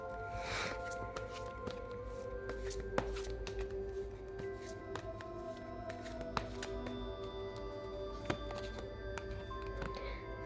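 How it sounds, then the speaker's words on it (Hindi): A tarot card deck is shuffled by hand, with soft papery riffles and light taps close by at low volume, and no voices over it. "final shuffle."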